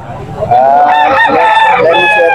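A six-month-old stag gamecock crows loudly and close by, one full drawn-out cock-a-doodle-doo lasting about two seconds after a short rustle.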